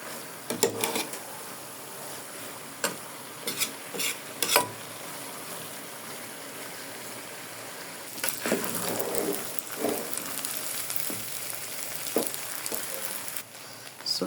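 Spaghetti and chicken cook on low heat in a pan, giving a faint, soft sizzle with sporadic light scrapes and clinks of stirring, quieter at first and then a steadier hiss in the second half.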